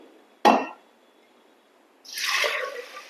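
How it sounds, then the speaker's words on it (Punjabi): Water is poured into a pot of whole moong dal: a sharp clunk comes first, then after a pause a close, splashy pour that lasts about a second before tapering off. "ਤਿੰਨ ਡੂੰਗੇ ਆਪਾਂ ਪਾਵਾਂਗੇ ਪਾਣੀ ਦੇ"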